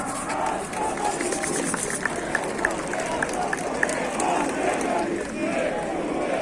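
A large outdoor crowd at the Independence March in Warsaw applauds in a dense, sustained wash of clapping and crowd noise, with a few sharper claps standing out.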